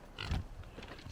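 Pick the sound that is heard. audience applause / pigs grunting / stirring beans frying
pigs grunting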